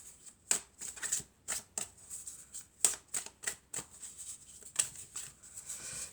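Tarot cards shuffled in a steady run of crisp riffling bursts, about a dozen sharp close flutters spaced irregularly over several seconds, with no voices.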